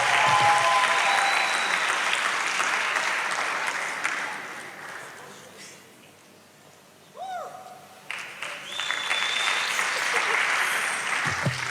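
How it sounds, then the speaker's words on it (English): An audience applauds after an inspirational talk about overcoming addiction. The clapping is loud and sustained, dips briefly in the middle, then swells again. "let's just stand and give a round of applause"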